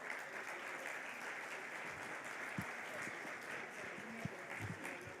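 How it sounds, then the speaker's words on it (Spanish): Audience applause welcomes an economist speaker at a financial markets conference in Mendoza, a steady, fairly faint wash of clapping that runs throughout without a break. "Lo recibimos con un fuerte aplauso,"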